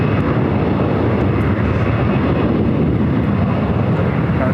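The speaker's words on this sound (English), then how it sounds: "Getting a lot of United heavies taking off here on the north side today." United heavy jet airliners take off from the north side runways at LAX in Los Angeles, producing a loud, continuous, broad jet roar that holds steady without pause.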